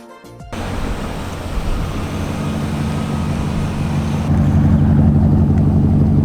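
A car's engine and exhaust run steadily and loudly with a deep rumble, the sound swelling slightly toward the end, with no talking.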